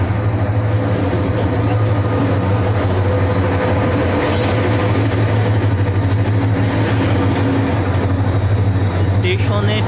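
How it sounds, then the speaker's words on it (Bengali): A passenger train pulls into Cox's Bazar railway station in Bangladesh with a loud, steady rumble and low engine hum, while people talk nearby on the platform. "এখনই একটি ট্রেন এসে পৌঁছেছেন এখানে।"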